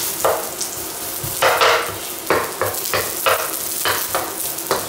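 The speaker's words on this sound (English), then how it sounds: "So first we're gonna dump in our garlic. Get that garlic aroma out of it into the oil." Garlic dumped into hot oil for a Cantonese oxtail and lamb stew sizzles close by, with repeated scraping bursts of a utensil stirring it in an uneven rhythm and no voices.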